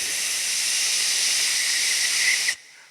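A voice imitates a running shower with a steady, loud, breathy hiss that holds unbroken for about two and a half seconds and then cuts off abruptly, with no talk.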